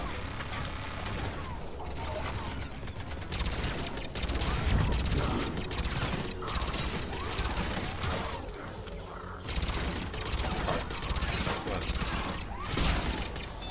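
Submachine gun fire in Mass Effect 3 rattles in dense, rapid bursts with brief gaps, loud and close, mixed with mechanical clatter and impacts.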